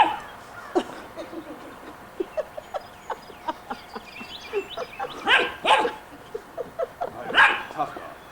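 A dog barks repeatedly outdoors, sharp barks coming in irregular bursts, some doubled, loud and close, with people's voices mixed in between.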